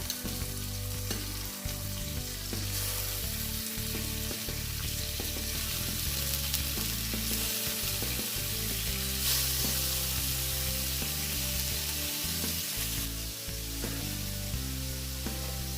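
Squid frying in hot oil for a seafood kare-kare, a loud, steady sizzle running the whole time with occasional stirring and spattering, no voices.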